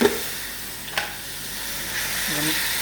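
Tomatoes go into a pan of softened chilies with a couple of soft plops over a constant close frying sizzle and hiss, and a voice briefly murmurs near the end.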